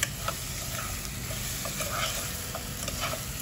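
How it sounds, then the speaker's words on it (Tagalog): Sugar caramelizes on pork hock in a pan for kare-kare, giving a loud continuous sizzle with crackles and stirring sounds close up. "Tapos hayaan natin siyang mag-caramelize sa ating meat."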